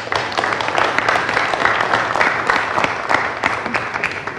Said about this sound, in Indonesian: Sebelumnya saya minta aplaus dulu untuk Meida